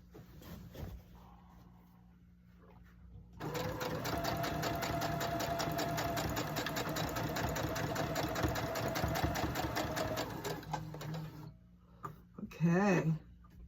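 Home sewing machine stitching quilt rows together, a close, steady rhythmic whir running for about seven seconds, with a brief voice and some handling noises before and after.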